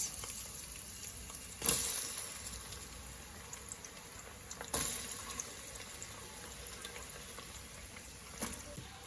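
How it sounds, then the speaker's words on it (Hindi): Onions sautéing in hot oil with cardamom, cloves and a cinnamon stick make a steady low sizzle, with a few sharper clatters from stirring in a home kitchen. "प्याज को थोड़ा सा सौटे करेंगे तेल में"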